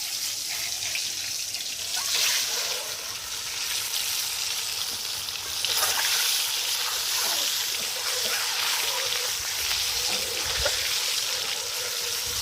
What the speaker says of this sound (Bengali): তেল গরম হয়ে গেছে, ডিম দিয়ে দেব